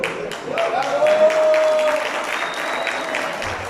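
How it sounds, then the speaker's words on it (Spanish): A burst of crowd clapping swells quickly and then gradually thins out, with a brief tone sounding faintly beneath it. "un aplauso para el Día Internacional de la Mujer Proletaria"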